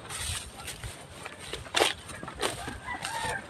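Hens in a backyard chicken coop cluck and call nearby in short, irregular bursts, with some footsteps in the background.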